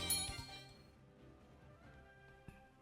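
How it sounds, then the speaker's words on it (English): A small bell rung in a kitchen in Goddess of Victory: NIKKE, a faint bright ding that rings out and decays softly, followed by a quiet tap near the end. "Crust gingerly rings the bell"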